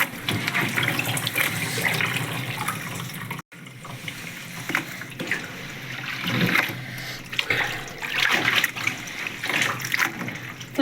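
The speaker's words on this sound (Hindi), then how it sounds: "पानी आता है हमारे यहाँ ताज़ा ट्वेल का" Fresh tubewell water runs and splashes while clothes are washed by hand on a cold foggy day, a steady close gushing with sloshing surges and one brief cut near the start.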